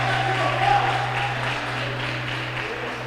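A church congregation applauds in a steady, dense wash of clapping lasting throughout, with a low steady hum underneath and no clear individual claps standing out.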